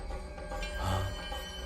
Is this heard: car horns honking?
no